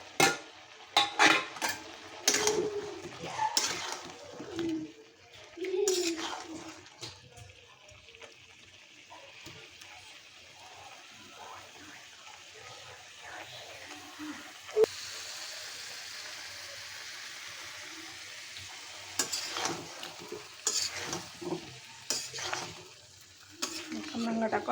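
Star fruit stirred and frying in spice paste in a pan for a shrimp curry, with scraping spoon strokes and sizzling close up, busiest early and late with quieter stretches between.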